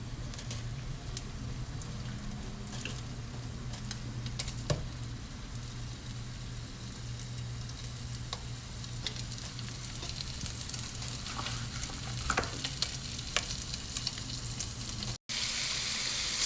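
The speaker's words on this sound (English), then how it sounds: "we're gonna take all the meat and we're gonna just keep doing this, cutting it up, making it smaller into little bits, and get a good fry on." Sausage meat squeezed from its casings sizzles and fries steadily in a pan for orecchiette with rapini, with occasional scrapes and clicks of a wooden spoon stirring and breaking it up, close and continuous with no talking.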